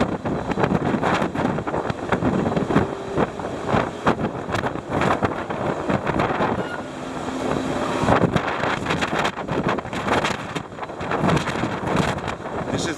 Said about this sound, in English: Super duper windy.